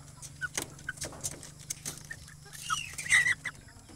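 Native chickens kept in a rural yard make soft, scattered clucks, a few short calls at a moderate distance over a quiet background.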